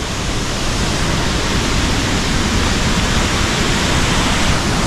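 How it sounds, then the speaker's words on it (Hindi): The Langvoku waterfall in Karbi Anglong, Assam, roars with a dense, loud, constant rush of falling water, heard alone with no speech. "तो वाटरफॉल तो हम लोग फाइनली पहुंच ही चुके हैं।"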